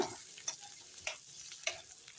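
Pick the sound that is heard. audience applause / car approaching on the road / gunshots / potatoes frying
potatoes frying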